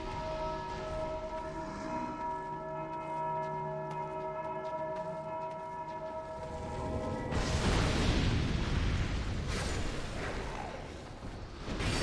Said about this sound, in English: Bell's literally always ringing